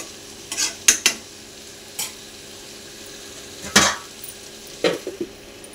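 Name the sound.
stirring food in a pan after opening the lid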